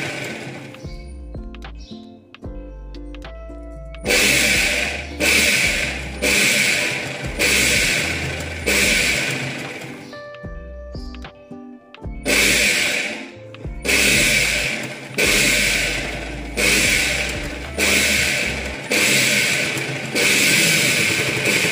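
A sewing machine stitches a katori blouse in repeated bursts of rapid mechanical chatter, each run lasting about a second, separated by short pauses and quieter handling between sets.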